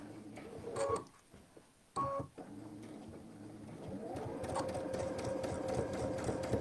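Sewing machine with an adjustable zipper foot stitching a zipper: two short whirring bursts with pauses, then a steadier, continuous mechanical hum of fast stitching, close but fairly quiet.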